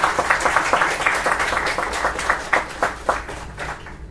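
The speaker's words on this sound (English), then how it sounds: "A huge round of applause" Applause for the chief guest, a company CTO, at a hackathon grand finale in Bangalore: a steady wash of many hands clapping in a hall, fairly loud and continuous, with no voices over it.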